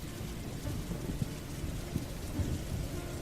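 Rain pours steadily with low rumbling thunder underneath, a dense, even wash of drops with occasional soft thuds, heard alone without voices.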